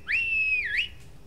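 A single clear, high whistle from Skyrim's Falskaar mod sounds close and loud, with a steady tone that dips and rises briefly before cutting off. No one talks over it.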